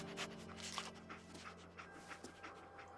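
Dogmeat, the dog in Fallout 4, pants quietly in quick irregular breaths, faint and close, with soft whimpers mixed in and a low background hum.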